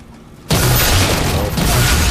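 A rocket launcher explosion in a Halo-style video game, a sudden loud boom that cuts in after a quiet moment and sustains as a rolling roar to the end.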